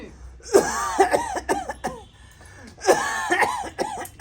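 Someone coughs in two hoarse fits, each a rapid series of harsh, rasping coughs, close by with a short pause between.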